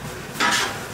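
Pork stir-fried with ginger, garlic and dried chili in a wok, heard as a short scrape and clatter of the spatula against the metal with a brief sizzle.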